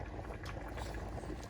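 Mutton and jackfruit korma gravy with ground coconut paste bubbles at a low simmer in the pot, a faint, steady boil with no voices.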